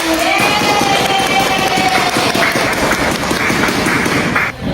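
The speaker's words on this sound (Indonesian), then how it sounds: "Berikan aplaus untuk kelompok 1" A classroom audience applauds a student group, a dense, steady patter of clapping hands sustained for several seconds at close range.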